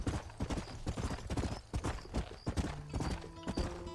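Horse hooves clip-clop steadily in the Red Dead Redemption video game, a brisk rhythmic trot of sharp hoofbeats heard up close with no talking over them.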